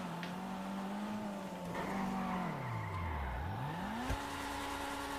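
Engine of a 2020 Honda Civic Type R rising and falling in pitch as it revs, dips low and climbs again, with a tire squeal, loud and close throughout.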